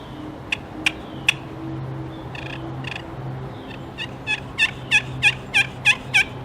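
A homemade turkey call imitating a gobbler, sharp yelps starting sparse then building into a rapid, evenly spaced series of loud close calls.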